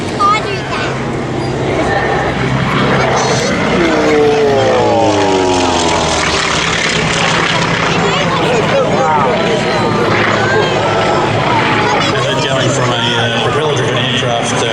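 A propeller aircraft with a 1425 horsepower engine at an airshow, droning loudly and steadily as it passes, its pitch sweeping as it goes by, with a voice talking over the noise throughout.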